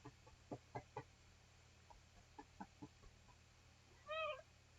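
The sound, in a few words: cat meowing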